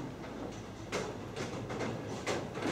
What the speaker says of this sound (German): Die Autos fahren von dem angekommenen Zug runter.